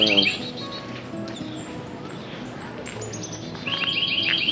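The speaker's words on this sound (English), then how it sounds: "Birds are chirping today." Birds chirp at a campground at Edisto Beach State Park, with bright tweets clustered at the start and again near the end over a soft outdoor background.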